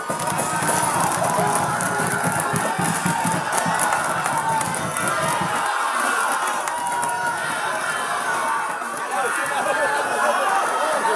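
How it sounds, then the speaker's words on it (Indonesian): Audience at a Sumatera Selatan 2024 gubernatorial candidates' debate applauding and cheering for the candidates, a dense, loud roar of clapping and shouting that stays steady throughout, with some chatter mixed in. "saatnya kita beri tepuk tangan yang meriah untuk cakup nomor urut 1, 2, dan 3"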